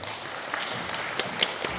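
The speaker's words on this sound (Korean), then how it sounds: "동의하시면 박수 한번 쳐주세요." A crowd at a cooperative's annual general meeting applauds steadily, a dense wash of clapping with a few sharper claps standing out.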